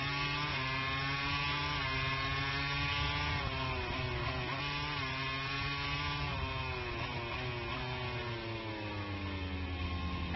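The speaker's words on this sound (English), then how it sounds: "The Ducati launches out." A Ducati MotoGP motorcycle accelerates hard on a race track, its loud, continuous engine wail climbing in pitch through the gears, close and steady with no pause.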